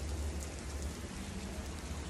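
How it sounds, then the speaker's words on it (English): Steady outdoor rain falls in a dense, even hiss of drops hitting surfaces, with a low rumble underneath and no voices. "But it's raining out here."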